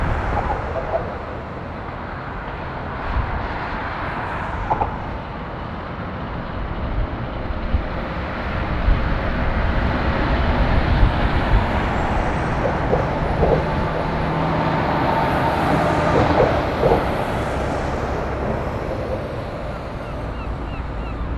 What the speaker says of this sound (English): there's a heck of a lot of lorries making their way out now